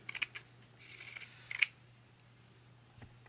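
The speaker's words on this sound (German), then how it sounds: "Das geht am besten mit einer Zickzackschere." Pinking shears trim a fabric seam allowance along the seam of a sewn cap brim, heard as a handful of crisp, close snips in short bursts, then quiet.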